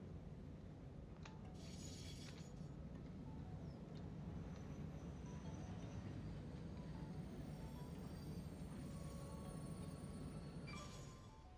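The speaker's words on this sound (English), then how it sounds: "It was a train collision." A freight train rumbles steadily and loudly in the video game Satisfactory, with bursts of crashing, clattering impact noise near the start and again at the end of a train collision.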